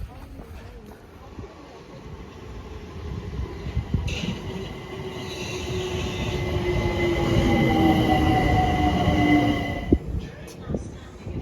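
A London Overground train arrives at Clapham High Street station, its rumble building and then easing as it slows, with long squealing wheel tones and a sharp clunk near the end.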